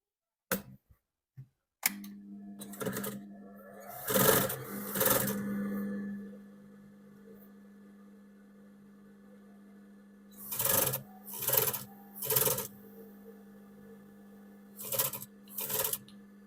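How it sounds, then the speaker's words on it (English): A sewing machine stitches a waistband for palazzo trousers in short runs of rapid, close mechanical whirring, separated by quiet gaps and a steady low motor hum, with a few handling clicks at the start. "now I can go ahead and sew this down"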